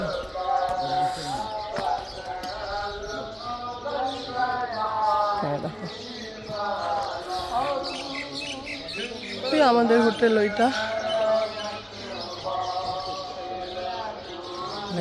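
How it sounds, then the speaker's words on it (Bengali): Birds chirp and call around the listener in the early morning in the mountains at Gulmarg, Kashmir, a mix of tweets and squawks, while people talk close by. "পাখিগুলো ডাকছে"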